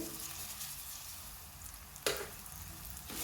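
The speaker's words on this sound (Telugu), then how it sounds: "నువ్వుల పప్పు ఎర్రగా వచ్చేంత వరకు వేగనివ్వాలండి" Sesame seeds frying in a pan with cumin and dried red chillies, a soft steady sizzle with a sharp crackling burst partway through and another toward the end.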